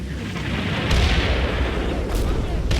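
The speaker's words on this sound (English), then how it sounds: "I'm just going to check whether or not you guys can actually see the artillery drop in here" Artillery shells landing in Combat Mission: Battle for Normandy, a continuous deep rumbling barrage with heavy booms and a couple of sharper impacts, loud and dense throughout.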